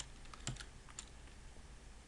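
Computer keyboard typing while scripting home automation in Premise software, a quick cluster of close, soft key taps and a couple of isolated keystrokes over a quiet room hiss, no voices.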